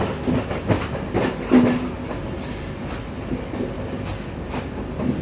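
An Intercity Express train running on rails in Sri Lanka gives a continuous close rumble with rhythmic clickety-clack wheel beats and a brief squeal.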